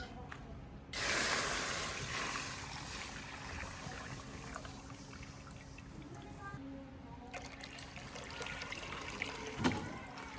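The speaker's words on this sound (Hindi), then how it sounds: "तो सबसे पहले हम इसमें दूध डालेंगे।" Cow's milk pours into a pot for an aloe vera drink, a soft continuous splashing trickle heard faintly and close, with a quiet background.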